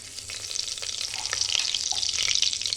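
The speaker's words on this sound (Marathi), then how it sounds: "कुकरमध्ये तेल टाकले त्याच्यामध्ये जिरे टाकते" Cumin seeds sizzling in hot oil inside a pressure cooker while cooking chicken biryani, a steady close crackle with brief pops, growing slightly louder over a few seconds, no voices.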